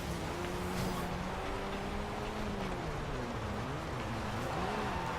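Race cars roar through an event in Forza Horizon 2's Storm Island setting, engines droning and shifting pitch as they accelerate and ease off, a continuous mid-level motor hum with no talking.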